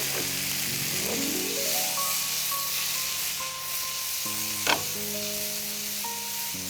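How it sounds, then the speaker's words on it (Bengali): Tomato sauce mixture frying in a pan, a soft steady sizzle running under background musical tones, close and moderately loud throughout. "এবার এটাকে আর একটু ফ্রাই করে নেব।"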